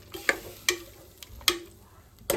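Vegetables for veg pulao are sautéed in a pan with a little water, with a gentle sizzle beneath four or five sharp scraping stirs of a spoon against the pan, spaced a fraction of a second apart.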